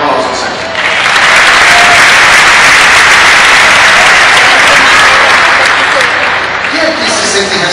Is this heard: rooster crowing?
no